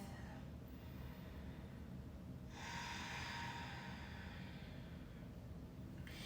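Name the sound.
yoga breathing in and out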